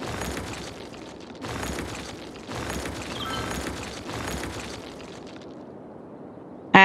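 Abandoned buildings being demolished in the city-building game Cities: Skylines, a series of four rumbling, crumbling bursts in quick succession, each lasting about a second, fairly loud, ending in a quieter tail and a sharp click.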